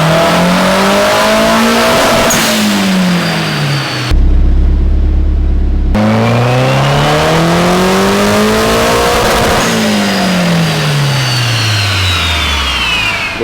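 A car engine on a dyno during a boosted tuning pull revs hard and loud, climbing and falling repeatedly through rising and dropping pitch sweeps, with a short gap of different droning noise partway through.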